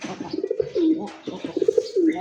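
Bombay pigeons of a large size coo in a loft, two rounds of soft, rolling coos close by and fairly loud, each swelling and fading over about a second.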